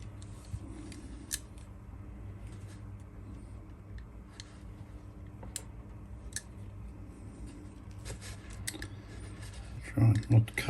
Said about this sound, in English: let's go ahead and let's strip the cable